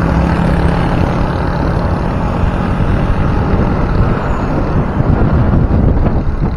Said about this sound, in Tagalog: Parang tinutulak yung bike ko ng hangin.